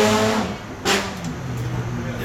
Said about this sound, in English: There's a car trying to sound like a rice machine breaking down